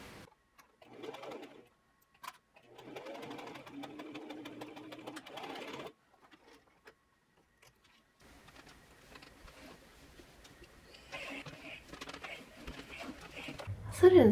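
A sewing machine stitches the shoulder seams of a cotton pencil dress in quiet, steady runs with pauses, and a person talks softly in between.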